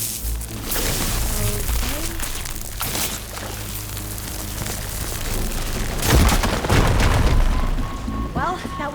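Firegleam explosion in Horizon Forbidden West, a deep booming blast with crackling, debris-like noise that swells midway and lingers, while a character speaks over parts of it.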